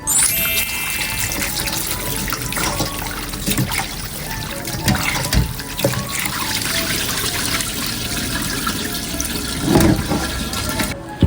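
Running water pours and trickles steadily while chicken intestines are washed for isaw barbecue, with some splashing and rinsing bursts partway through and near the end.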